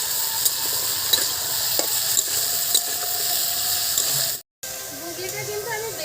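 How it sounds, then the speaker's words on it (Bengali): Green chillies and salt are sautéed in a pan with a close, steady sizzle, broken by light scraping clicks of stirring and a brief cut near the end. "আর একটু লবণ গুঁড়ো একসঙ্গে একটু কষে নেব আমি।"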